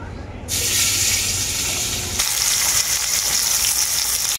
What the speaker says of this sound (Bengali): ওই তেলের মধ্যেই আমি দিয়ে দেব কেটে রাখা পেঁয়াজ